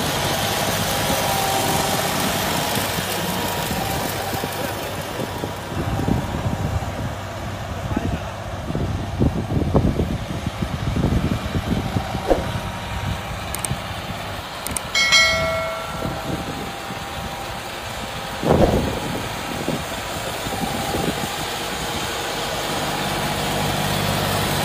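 A John Deere 5210 Gear Pro tractor fitted with a 15-tine cultivator runs with a steady low engine rumble and idle, overlaid by intermittent knocks and clanks, while someone talks over it.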